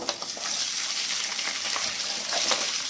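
Steady, close sizzling of onions frying with garlic in a hot pan, a dense crackle with occasional stirring scrapes.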